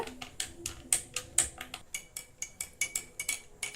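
A spoon stirs milk sarbath in a glass, giving quick, regular clinks and taps that repeat in a steady rhythm, close and fairly quiet, with no talking.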